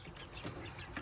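Nine-week-old American Breast meat chickens, including several young roosters, give soft, low clucks and murmurs close by in a quiet flock, faint and continuous with small bursts.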